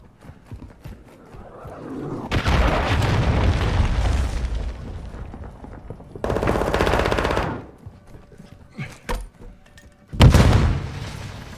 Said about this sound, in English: Stars launched a cruise missile.